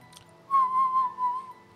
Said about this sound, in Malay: aku bersiul waktu tu